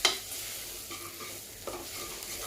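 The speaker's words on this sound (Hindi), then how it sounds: "कुछ सेकंड के लिए भुनाई कर लीजिए इसकी।" Grated coconut dry roasting in a pan, a soft continuous rustling sizzle with a couple of faint stirring scrapes, close and quiet, no voices.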